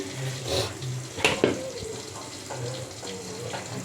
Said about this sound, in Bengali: আমি হাঁসটাকে অনেকবার করে ধুয়ে নিছি আচ্ছা পানিটাকে আমি একটু ঝরিয়ে নিতেছি